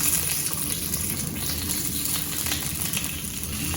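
Fish frying in a pan gives a loud, continuous sizzle and crackle that runs steadily throughout, close up with no talking.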